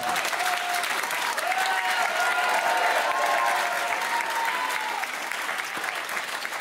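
A television studio audience claps steadily for several seconds, with dense, even applause and some crowd voices mixed in under it.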